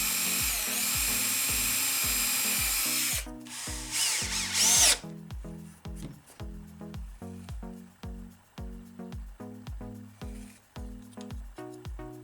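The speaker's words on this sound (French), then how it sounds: "finalement percer au diamètre de la tige filetée et aussi de l'écrou" A power drill bores holes in a wooden batten for a small homemade wooden clamp, sized for a threaded rod and its nut; a steady high whine gives way to repeated short bursts of drilling with brief pauses between.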